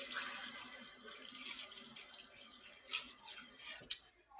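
Tap water runs steadily into a cooking pot on a home stove, a continuous hiss and splash close by, with a couple of brief clinks near the end.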